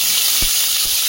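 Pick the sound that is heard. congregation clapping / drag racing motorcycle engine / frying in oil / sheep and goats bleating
frying in oil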